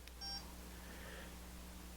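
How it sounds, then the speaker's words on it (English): A Western Digital My Passport 2.5-inch portable hard drive emits faint, thin electronic beeps as it fails to spin up, brief tones early on over a steady low hum. "I don't know if you can hear the sad little beeping, but that's the sound of the drive trying to spin up,"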